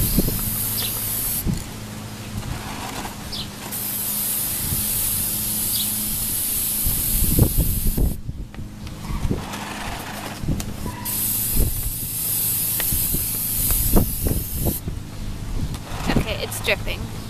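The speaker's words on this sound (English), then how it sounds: "You shake this just like the spray paint. And spray it just like the spray paint." A spray can hisses in several long bursts separated by pauses, with occasional knocks and handling noises, spraying onto a mason jar. A person talks between the bursts.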